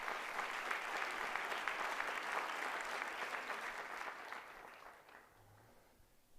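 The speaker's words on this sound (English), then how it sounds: "Let's do a round of applause for that." Sustained applause from a convocation audience, fairly distant and even, tapering off toward the end into near quiet.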